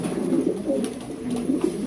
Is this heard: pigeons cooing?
yes